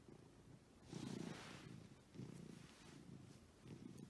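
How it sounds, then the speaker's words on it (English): A cat purrs softly and close by in a quiet room, the rhythmic rumble rising and falling with each breath over several cycles. "Just wanted to check in with a purring gato."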